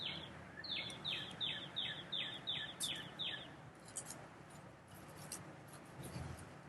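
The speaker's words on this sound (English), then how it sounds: "Guys, I can hear the birds." Outdoors, a bird gives a run of about eight quick, evenly spaced descending chirps, fairly clear and moderately near, followed by fainter scattered calls over a soft background.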